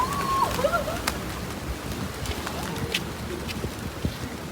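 Pigeons coo softly amid faint outdoor bustle in Makkah near Masjid al-Haram, with scattered flutters and light tapping nearby.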